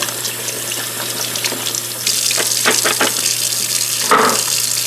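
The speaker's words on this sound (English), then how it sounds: "we'll just re-rinse these in case I got any of that soap in them" Carrots being rinsed under a running kitchen tap, a steady stream of water splashing into a sink, getting louder partway through with a few brief splashes and clatters near the end.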